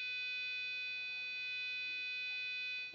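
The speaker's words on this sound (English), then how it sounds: "See, the beep is very smooth with a delay of just 1 millisecond." A passive buzzer on a PIC16F877A microcontroller board emits a sustained, unbroken high-pitched electronic tone at a steady, modest level over light background noise, ending with a short click.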